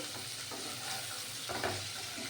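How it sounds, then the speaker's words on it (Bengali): Tomato and ginger fry in a pan with a close, continuous crackling sizzle and a few scraping stirs. No voices are heard. "দেখুন এই টমেটোটাও ভেজে নিচ্ছে হ্যাঁ একটু ভাজা ভাজা করলে"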